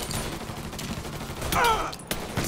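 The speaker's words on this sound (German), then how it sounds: "Zwei Schüsse in die Brust und dann ein paar daneben setzen." Gunfire from the video game Mafia 3, a short rattling volley of shots over a noisy game background, fairly close and without talk.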